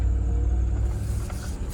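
A rusty Land Rover Discovery II, the D2, pulls off with a low rumbling engine and road noise from inside the cabin, steady and close for a moment.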